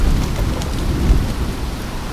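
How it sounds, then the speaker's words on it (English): Heavy rain falls steadily during a derecho storm in St. Louis, Missouri, a loud, dense wash of noise with a low rumble beneath it and no talking. "Here comes rain."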